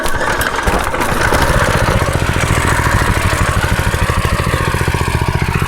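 A Predator 212cc 6.5 hp Harbor Freight small engine catching on a cold pull start, then running loud and close with a fast, steady thumping idle.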